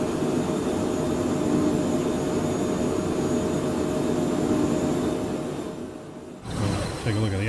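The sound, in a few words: Phenom 100 private jet engine in Microsoft Flight Simulator video game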